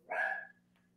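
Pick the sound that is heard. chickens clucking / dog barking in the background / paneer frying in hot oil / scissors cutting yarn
dog barking in the background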